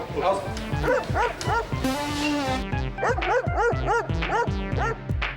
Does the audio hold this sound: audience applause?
no